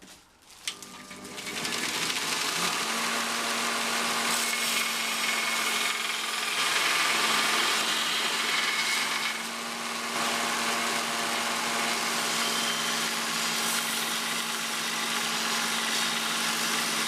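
A powered grinder rough-grinds a knife blade forged from rusty old wood saws, giving a loud continuous whine with a steady hum that shifts slightly in pitch as the steel is worked, with no talking.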